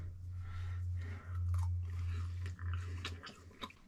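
Campfire-cooked steak chewed up close on a windy winter day, with a low wind rumble underneath and quiet wet crunching bites and chews growing denser toward the end.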